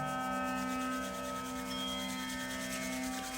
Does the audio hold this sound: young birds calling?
no